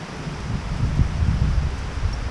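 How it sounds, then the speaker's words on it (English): Strong afternoon wind at Sandy Creek Park buffets the microphone in a steady low roar with gusty swells, no voices heard. "we don't know whether you can hear us over the wind"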